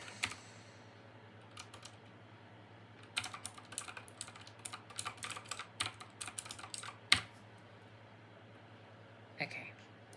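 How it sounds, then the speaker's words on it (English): Computer keyboard typing in a quiet room: a few light clicks early, then a dense burst of keystrokes in the middle and a final short flurry, all soft and close over a steady low electrical hum. "Let me type that in."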